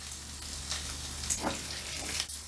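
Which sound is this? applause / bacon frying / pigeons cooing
bacon frying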